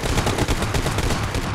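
Rapid bursts of gunfire in PUBG Mobile, loud and close, with a dense rattling stream of shots.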